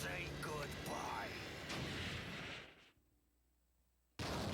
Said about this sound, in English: Way more explosions than ever before.